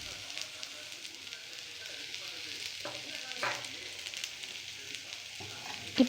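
Raw plantain sautés in a pan for a South Indian poriyal, giving a steady, fairly quiet sizzle with a few soft stirring scrapes and a sharper knock at the end, under faint background voice.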